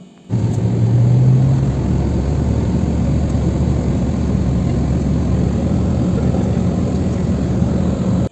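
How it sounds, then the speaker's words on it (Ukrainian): A steady, fairly loud rumble of a car driving on the road, heard from inside the cabin. It starts abruptly and then holds an even drone throughout. "Їдемо своїм автомобілем"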